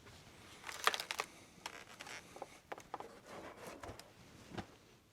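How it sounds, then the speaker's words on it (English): Plastic zip ties ratchet tight as LED light bars are fastened to the front grille of a Jeep Gladiator, giving quiet, close, irregular clicks and rasps with handling rustles between them. "we're gonna zip tie them to the front so we can see what they look like"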